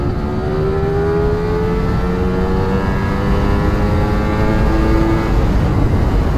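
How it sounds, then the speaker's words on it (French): Ducati Streetfighter V4S 2023 motorcycle, a 208-horsepower naked bike, pulling hard through the revs with a steady, loud rising engine tone that climbs and holds throughout, no talk over it. "On va se donner le droit à une petite montée en régime"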